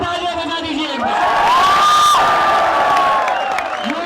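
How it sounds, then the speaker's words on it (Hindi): A crowd of young people at a celebration claps, cheers and whoops loudly and continuously, with a voice rising over the noise. "सारे लोग अपने लिए तालियां बजा दीजिए एक बार।"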